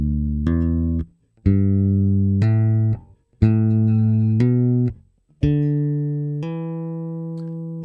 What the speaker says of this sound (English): So one pluck and then hammer that note on.